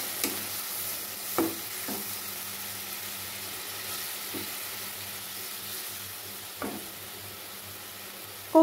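Spice masala for prawn kofta curry being stirred and fried in a pan: a steady low sizzle with a few scattered scraping strokes of the spoon, fairly faint and without any voices.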